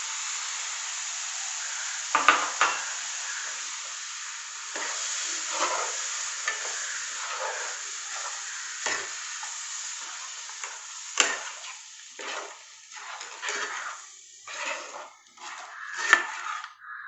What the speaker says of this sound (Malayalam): ഇനി നമ്മൾ പാലൊഴിച്ച് കൊടുക്കാം. 1 കപ്പ് പാലൊഴിച്ച് കൊടുക്കാം.